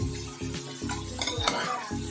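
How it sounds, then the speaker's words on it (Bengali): Dried red chillies and cumin seeds crackle in hot oil in a wok, with a brief sizzle broken by quick scraping stirs over about two seconds. "কড়াতে দিয়ে দিয়েছি দেখো শুকনো লঙ্কা আর হচ্ছে গিয়ে জিরে ফোড়ন"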